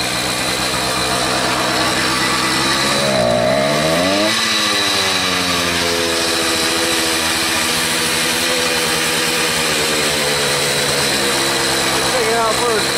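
A small gas engine on a motorized bicycle rebuilt from scrap drones loudly and continuously, its pitch swooping up as it pulls away and then holding a steady, buzzy, chainsaw-like note close by.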